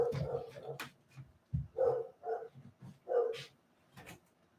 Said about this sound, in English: I'll be back in a moment because Phantasmo's barking